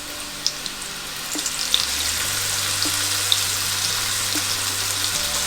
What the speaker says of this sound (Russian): Обжариваем буквально секунд 40 до появления хрустящей корочки